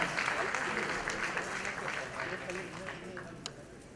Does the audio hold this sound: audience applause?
yes